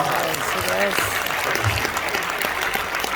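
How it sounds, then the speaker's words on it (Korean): A church congregation applauds in a steady rain of claps under continuing speech, with a voice talking over the clapping throughout. "우리 박수하겠습니다."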